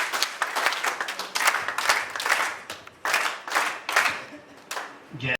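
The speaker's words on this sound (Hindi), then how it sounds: "हम उनका अभिनंदन करेंगे जोरदार तालियों के साथ" An audience at a gathering breaks into loud, enthusiastic applause in surging bursts of clapping that swell and dip over several seconds before fading out.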